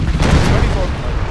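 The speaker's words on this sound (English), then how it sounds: "cannon is firing canisters straight through" Cannons blasting canister shot in the Empire Total War game produce a loud, dense rumble of overlapping booms and crackling fire, continuous and close, with a voice talking underneath.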